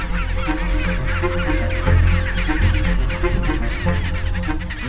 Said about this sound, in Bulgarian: Крякането му оглася цялата детска антарктическа ясла, а в нея щъкат стотици пернати като него.